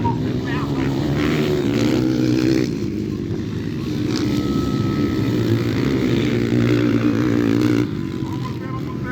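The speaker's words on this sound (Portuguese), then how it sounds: "Aí vem o motocicleta." A motocross motorcycle passes by at a regional race, its loud engine drone steady and close for several seconds. An announcer talks over it.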